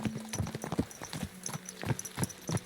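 In the video game Kingdom Come: Deliverance 2, a horse's hooves clip-clop in a quick, steady rhythm, fairly quiet and unaccompanied by speech.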